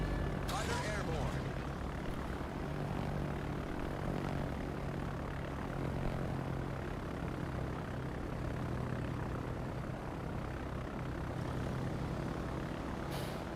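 A fighter aircraft engine in a naval combat video game hums as a loud, constant drone, with a steady tone holding throughout and a player's voice talking over it.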